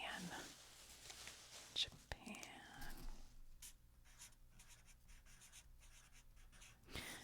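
A pen scratches across paper in short strokes during a soft-spoken ASMR session while World Cup knockout picks are marked, close and quiet, with faint whispery breath and a few louder taps.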